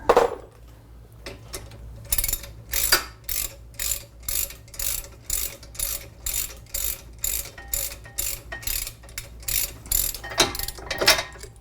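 A ratchet loosens front brake caliper bolts on a Land Rover Discovery Sport during a brake pad and rotor replacement, making a close, steady run of repeated clicking pawl strokes, about one every half second, with no talking.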